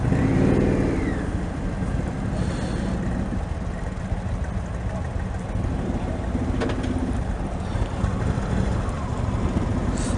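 Indian Chieftain Elite motorcycle engine rumbling steadily while riding, a low continuous drone mixed with strong wind rush throughout.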